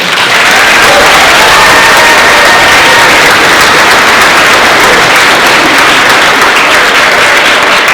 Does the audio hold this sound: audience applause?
yes